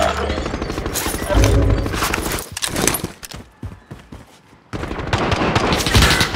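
Enemy soldiers firing in a video game, loud rapid gunfire bursts close by, dropping off briefly in the middle before resuming, with no talk.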